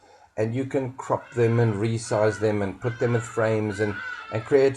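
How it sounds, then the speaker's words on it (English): Someone talks steadily while chickens cluck and a rooster crows in the background, partly buried under his voice. "Sorry about the birds, guys. I can't ask them to not do this."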